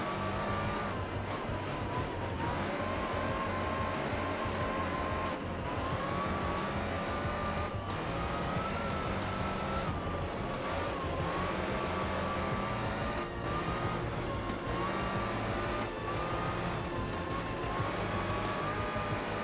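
Race car engine in the video game Gran Turismo 4 droning steadily throughout, its pitch rising and falling with gear changes and occasional tire squeal.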